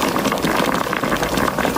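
A gallon of water is poured into a pot for ginisang monggo (mung bean soup) with bihon noodles, making a steady, close, gushing and splashing sound that runs without a break.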